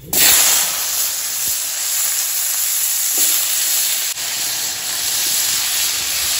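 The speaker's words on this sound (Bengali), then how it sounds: "এবারে আলু আর বেগুনটা দিয়ে দেবো।" Potato and eggplant drop into hot oil already holding five-spice seeds and a couple of dried lentil dumplings, setting off a loud, continuous sizzle and hiss close by, with faint stirring knocks.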